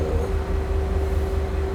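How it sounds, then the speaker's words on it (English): A train in the House Flipper video game rumbles past with a low, steady drone and a sustained humming tone, continuous and fairly loud throughout the short stretch, with no talking. "Oh, excuse the train."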